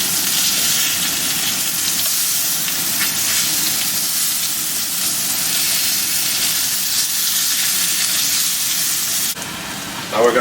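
Zucchini sizzles steadily in hot olive oil in a pan, a loud, dense frying hiss that holds constant for about nine seconds before briefly cutting to quieter clatter at the end.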